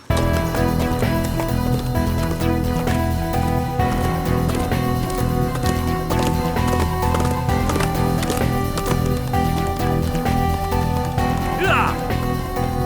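Horse hooves clip-clop in a dense, continuous rhythm beneath a loud dramatic music score throughout a drama scene, the galloping partly buried in the mix.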